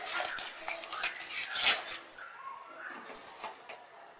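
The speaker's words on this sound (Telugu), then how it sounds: "మూత తీసుకుని తగినంత ఉప్పు వేసుకుని ఒకసారి బాగా కలుపుకోవాలి" A spoon clinks and scrapes against a pot of cooked ridge gourd dal as salt is mixed through after pressure cooking. The taps come close and irregular over a soft kitchen background, with no talking.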